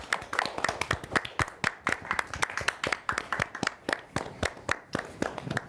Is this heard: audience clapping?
yes